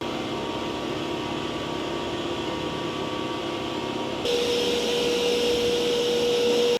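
A Mova Z50 Ultra robot vacuum cleaner runs with a steady, close whirring drone, then shifts partway through to a louder, higher-pitched suction mode with a sharp tonal hum.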